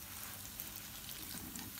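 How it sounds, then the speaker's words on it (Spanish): Sushi rolls frying in hot oil on a home stove, a steady soft sizzle and crackle with small popping bursts, close and continuous. "Ahí te muestro como ya tengo dos, ya se están friendo."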